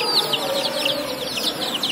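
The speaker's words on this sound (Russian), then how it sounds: "Это птички, птенчики." Chicks chirp rapidly and repeatedly in a steady, close flurry of high peeps, heard alone without talk.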